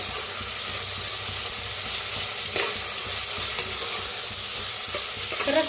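Crushed ginger, garlic and green chili fry in a pan with a constant hissing sizzle, close and fairly loud, punctuated by occasional stirring clinks and no talking.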